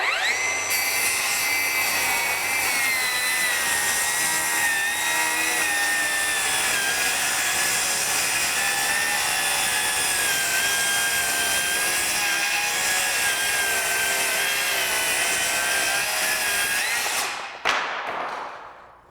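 A Milwaukee cordless circular saw running on a 12 amp-hour heavy-duty battery cuts through wood with a loud, sustained whining drone whose pitch drifts as it bogs under load, then winds down abruptly near the end.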